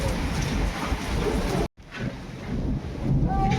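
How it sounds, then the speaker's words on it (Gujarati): Strong gusty wind from a small village storm with hail and rain roars and buffets the microphone, a loud broadband rush that cuts out abruptly for a moment and then resumes, rising again toward the end. "મિની વાવાઝોડું"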